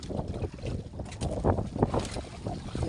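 Gusting wind and waves around a small fishing boat at sea, a rough, buffeting roar of wind against the microphone with splashing surges that rise and fall through the clip.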